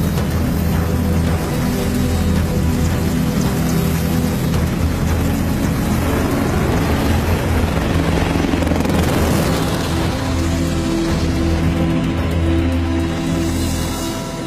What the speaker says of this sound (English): would love to fly this helicopter